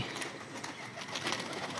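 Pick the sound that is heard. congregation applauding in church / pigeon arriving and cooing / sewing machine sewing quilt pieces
pigeon arriving and cooing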